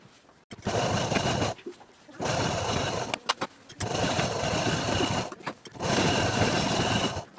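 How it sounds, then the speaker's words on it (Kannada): Sewing machine stitching a school uniform pant, running in four bursts of rapid mechanical whirring separated by short pauses with faint handling clicks between them. "ನಡುವಲ್ಲಿ ಸ್ಟ್ರೈಟ್ ಲೈನಾಗಿ ಸ್ಟಿಚ್ ಮಾಡಿಕೊಂಡ್ರೆ ಸಾಕಾಗುತ್ತೆ"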